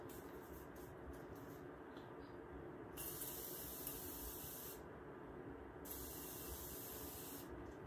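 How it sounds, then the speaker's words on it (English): Morphe setting spray mists onto a face in two long, close hissing bursts with a short pause between them, with no talking. "I do like to go with my Morphe and like to spray my face down"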